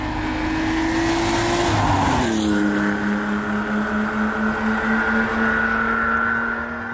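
Old Porsche 911 Rennsport, a sorted and modified air-cooled classic, driven hard: a loud, steady engine note climbs then drops sharply around a gear change before settling into a sustained drone, close and alone without talk.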